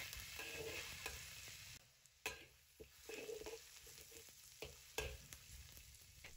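Minced garlic and dried chilies fry in hot oil in a wok, giving a steady sizzle broken by sharp scraping and clacking stirring strokes, close and with no talk.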